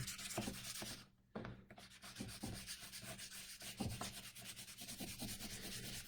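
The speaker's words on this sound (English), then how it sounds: "So now I just rub it real hard." Spoon rubbed hard over paper to pull a print, a continuous close scratchy rubbing in quick back-and-forth strokes with one short pause.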